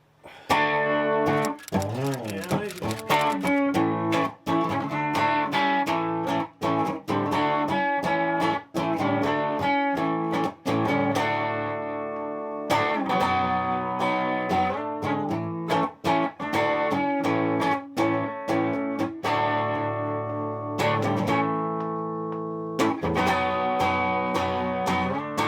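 A new electric guitar played on its bridge pickup with volume and tone fully up, through a Marshall amp: loud, distorted chords and riffs ring out in bursts with short pauses, close and full, with no talk.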